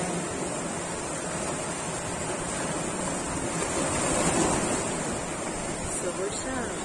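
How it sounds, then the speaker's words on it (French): Sea waves breaking on a shore, a steady broadband wash of surf with a slight swell around the middle, continuous and fairly close, with no talk over it. "La mer."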